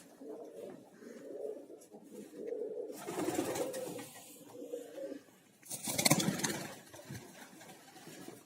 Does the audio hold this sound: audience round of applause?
no